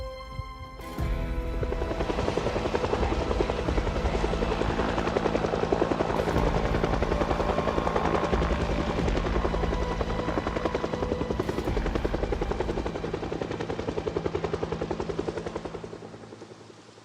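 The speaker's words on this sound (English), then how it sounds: "That's the helicopter done." Helicopter in a zombie survival video game, a loud continuous rotor chop and engine whine that holds steady for most of the stretch before fading at the end, with no talking.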